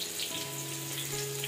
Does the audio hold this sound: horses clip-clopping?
no